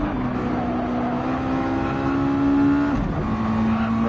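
A touring race car engine in a motorsport championship round climbs steadily in revs, then drops briefly and picks up again, heard at a moderate distance.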